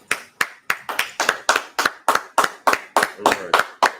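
Audience clapping at a scripture class, about a dozen sharp claps in a steady even rhythm, loud and close with no talking.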